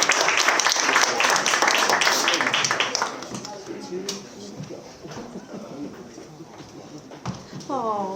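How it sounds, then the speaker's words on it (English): An audience claps for a performer at a live show, a dense burst of applause that thins out after a few seconds as a voice speaks over the fading clapping. "Another round of applause for Mango, everybody"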